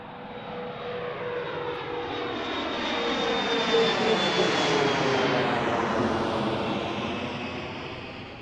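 A jet airliner at Washington Reagan National Airport roars past loud and close, the engine noise swelling to a peak mid-pass and then slowly fading away.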